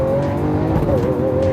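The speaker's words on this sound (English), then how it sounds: "The engine is ferocious sounding. The noise it makes is right behind your ears." A 2015 Lamborghini Aventador engine in manual Corsa mode roars loud and close as it is popped down a gear, giving a steady, dense, throaty note for the whole moment.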